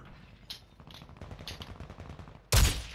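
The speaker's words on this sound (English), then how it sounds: "Who's shooting at you?" Video game gunfire crackles as a run of rapid, muffled distant shots, then a sudden loud, close burst cuts in at the end.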